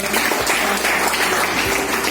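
Congregation at a prayer hall inauguration applauding a visiting brother, a steady wash of close clapping throughout with no gaps.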